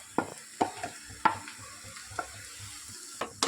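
Chopped ridge gourd pieces tumble into a pan of softened frying onions and curry leaves, with a spaced run of soft spatula scrapes and light clacks over a faint, steady background hiss.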